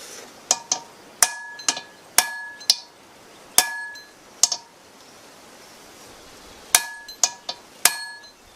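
A hammer drives a pin punch against the rivets of a loose pan handle, tightening them with about a dozen sharp, ringing metallic strikes in irregular bursts, some in quick pairs, close and loud with short pauses between.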